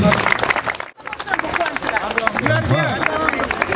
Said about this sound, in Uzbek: Ha, alohida bir qarsaklarimiz bo'lsin.